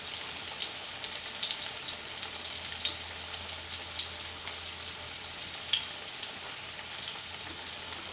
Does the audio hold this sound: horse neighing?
no